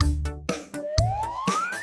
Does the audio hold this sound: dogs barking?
no